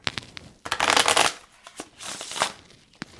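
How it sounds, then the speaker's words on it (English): A deck of Dear Heart Oracle cards is shuffled close up, giving a crisp riffling burst, then lighter flicks and a second softer riffle, with no talking. "It just really shuffles nicely."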